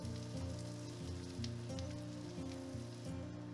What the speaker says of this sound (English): add your minced garlic and some oil over top. Let it fry until the garlic is just about to turn a nice light golden brown color